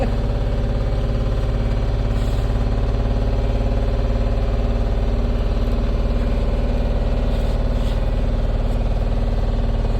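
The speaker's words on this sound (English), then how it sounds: "You'll have to excuse that noise. That's my washing machine." A loud, steady mechanical rumble and hum with a low droning whir from a nearby washing machine on its final spin, unchanging throughout.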